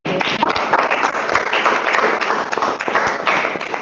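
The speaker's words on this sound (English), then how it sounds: "Let's give Emmanuel a round of applause" A crowd applauds steadily, with dense, continuous clapping that stays at a constant loudness throughout.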